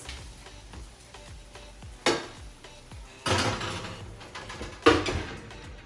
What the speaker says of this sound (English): we're going to take the pan and put it in the oven at 375 degrees